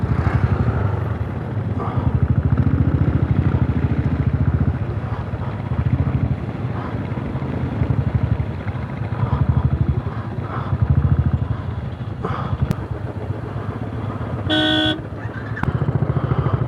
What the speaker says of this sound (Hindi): आगे से गाड़ी आ रही है बहुत